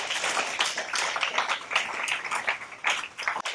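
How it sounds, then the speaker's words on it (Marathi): An audience at a talk session applauding, a dense, steady wash of many hands clapping that continues without break at moderate volume. "सगळ्यांनी एकदा जोरदार टाळ्या वाजवा त्यांच्यासाठी."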